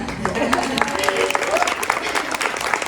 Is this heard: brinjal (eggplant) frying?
no